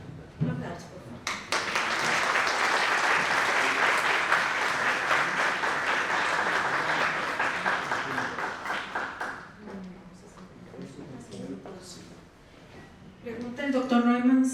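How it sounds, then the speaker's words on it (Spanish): At a lecture on conserving documentary heritage, the audience breaks into loud, dense applause that builds quickly, holds for several seconds, then fades. Someone speaks after it dies away. "Un aplauso, por favor."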